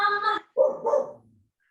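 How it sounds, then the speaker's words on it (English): Several dogs barking in a home, a burst of close, loud barks followed by a second, looser volley that fades out within about a second and a half. "My dogs are gonna bark at your dogs"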